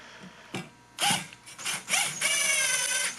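A screw being driven into a motor mount for an electric ultralight aircraft, a few short bursts of mechanical whirring and ratcheting from a driver, with brief pauses between them, close and fairly loud.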